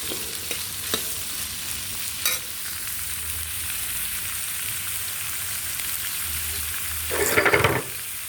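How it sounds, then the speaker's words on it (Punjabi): Onions frying in a pan for a Punjabi creamy onion sabzi: a steady close sizzle throughout, with a few soft utensil taps and a louder burst of hissing near the end. "ਹੁਣ ਅਸੀਂ ਗੰਡਿਆਂ ਨੂੰ ਭੁੰਨ ਲਾਂਗੇ ਚੰਗੀ ਤਰ੍ਹਾਂ ਭੁੱਜਣ ਦਵਾਂਗੇ"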